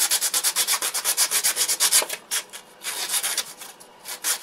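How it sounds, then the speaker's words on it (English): Sandpaper rubbing over a hand-made Zuni doll marionette, a quick run of rhythmic rasping strokes that speed up, then break into slower, uneven passes; close and alone. "And you can use sandpaper."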